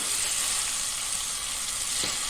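Garlic chutney frying in oil in a pan, a steady close hiss and sizzle that stays even throughout with no talk.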